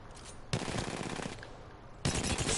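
RE-45 pistol firing in Apex Legends, heard as two fast bursts of rapid automatic shots, loud and close, separated by a quieter stretch.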